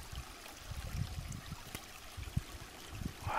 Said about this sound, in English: I see a little trickle. Little waterfall.